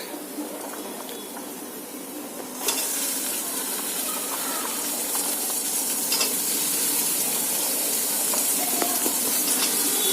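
Cauliflower sautéed in a pan for bhaji, a gentle sizzle that jumps louder a few seconds in as more goes in, then a steady close frying hiss with occasional stirring clinks.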